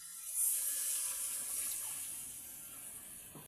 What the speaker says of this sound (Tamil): கொஞ்சமாக தண்ணி சேர்த்துக்கொள்ளும்.